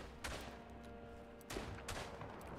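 Two sharp rifle reports from a straight-pull bolt-action rifle in the World War I shooter Tannenberg, spaced about a second and a quarter apart, each with a ringing tail amid steady battlefield ambience.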